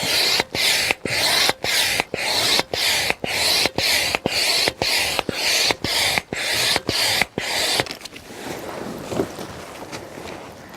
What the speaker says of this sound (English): then you attach the pump here in the middle to this one point, and then you just start pumping